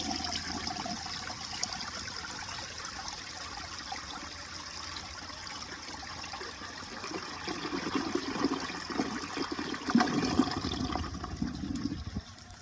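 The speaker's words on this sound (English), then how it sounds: "here's technically an overfilled tank flush." A restored 1978 Eljer Emblem toilet with an overfilled tank flushes quickly, starting as faint running water that swells into a louder, gurgling rush in the last few seconds without fully siphoning.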